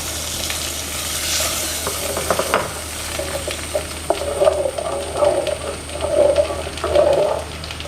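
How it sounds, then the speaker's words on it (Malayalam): Fried mustard seed tempering poured over a hot buttermilk curry with cucumber, giving a steady close sizzle with small crackling pops that swell in bursts during the second half. "ഇനി നമുക്ക് ഈ കടു വറുത്തത് ഇതിൻ്റെ മുകളിലേക്ക് താളിച്ചു കൊടുക്കാം."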